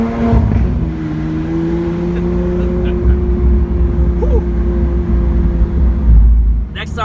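Riding on board a 2016 Lamborghini Aventador SV, a steady, loud engine drone holds a low hum throughout, with brief revving toward the end and voices speaking over it.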